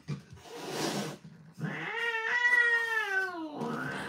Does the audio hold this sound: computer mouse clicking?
no